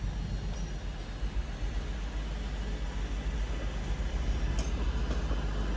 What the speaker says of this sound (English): there goes the 2331s as the 390 arrives in from London Euston